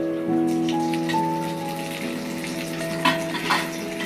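Onion frying in a pan with garlic paste added, making a close, steady sizzle over a sustained tonal hum, with a couple of brief stirring bursts near the end.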